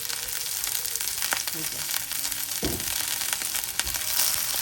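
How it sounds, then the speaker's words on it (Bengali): Previously boiled prawns frying in a little mustard oil make a steady, dense sizzle, with a few scrapes and stirring sounds in the pan. "এখন সেটা একটু হালকা তেলে ভেজে নেব"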